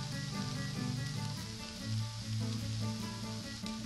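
Onion with other chopped vegetables sizzling steadily on a disc pan for osobuco, a loud continuous frying crackle with faint stirring.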